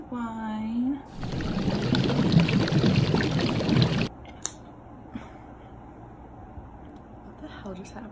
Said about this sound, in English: I wanted to pour a glass of wine for this